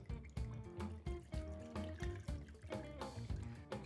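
A cocktail pours over a few pieces of frozen coconut flesh set in a glass in place of ice, a close, steady liquid stream with faint trickling, heard alone.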